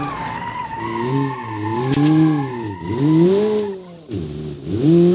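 A hatchback in a racing video game pulls away at full throttle, its engine note climbing and dipping through gear changes, with tyre skids and squeals throughout a steady, close, loud drone.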